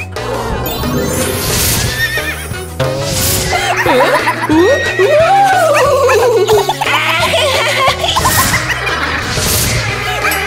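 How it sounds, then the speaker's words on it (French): A toy horse neighs with a cartoonish, pitch-wavering whinny, loud and close, amid busy children's-show music and playful chatter. "Cheval!"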